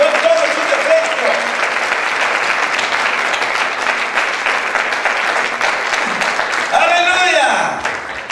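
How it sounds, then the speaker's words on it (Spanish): Dense, loud applause from a church congregation fills the space steadily, with some voices mixed into the clapping and a brief swell toward the end. "Denle un aplauso al Señor."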